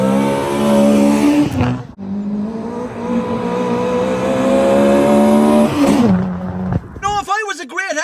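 A Toyota Trueno's carburetted 4AG twin cam 16-valve engine with trumpets revs hard: a loud, raspy tone climbs and holds at high revs, dips briefly, revs again, then cuts off before other noise at the end.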